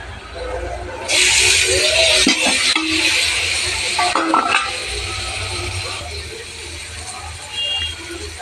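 Tomatoes and slit green chillies drop into hot oil for vegetarian ghugni, and a sudden loud sizzle flares up and hisses steadily. A few utensil knocks and a low background rumble sit under it.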